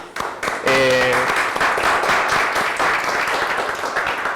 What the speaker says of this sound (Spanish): como bien dijo Luis, el aplauso es para ustedes también.